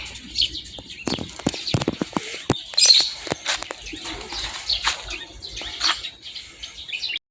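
Pigeons cooing and chirping close by, mixed with sharp taps, rustles and brief wing flaps, at an uneven rhythm.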